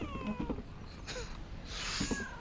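A cat meows a few times in Half-Life: Alyx, short mid-pitched cries at moderate volume over steady game ambience.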